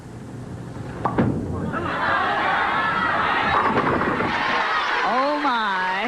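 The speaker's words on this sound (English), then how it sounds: "Pins just explode in the 10th, and for Cheryl Daniels now" During a women's professional bowling broadcast, a ball strikes the pins in the tenth frame with a sharp crash. A crowd murmurs and cheers, and voices talk throughout.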